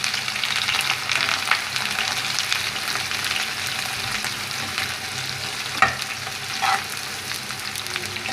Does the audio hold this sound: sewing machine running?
no